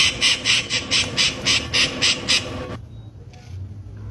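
A parrot for sale at a Colombian market lets out a rapid burst of about eight harsh, rhythmic squawks up close, then falls quiet with only faint background noise.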